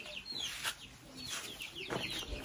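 Chickens clucking close by as they run around, a few quick, faint clucks and squawks scattered over the short stretch with no talk.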